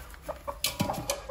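A mother hen with newly hatched chicks gives a few soft, short clucks, faint and close by, with no talk.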